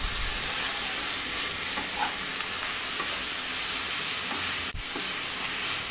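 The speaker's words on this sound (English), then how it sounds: "2 grated carrots, 1 finely chopped tomato. Mix well and fry this also for 1 minute." Grated carrot and chopped tomato stir-fry in a pan for an egg fry, giving an even, steady sizzle with faint occasional stirring scrapes and a short dip in sound partway through.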